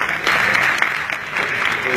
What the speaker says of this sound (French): Ça, il faut l'applaudir.